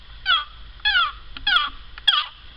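Four high, raspy yelping calls imitating a turkey, made with a homemade corn cob friction call, evenly spaced and loud against a quiet background.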